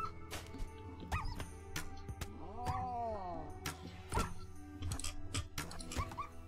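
Dog whimpering and yipping inside the video game RimWorld, a rising whine with repeated short sharp cries over a steady game background hum.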